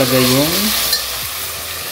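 Chicken sautéing in a pan, a steady loud sizzle with stirring noise; a brief tonal whine fades out early.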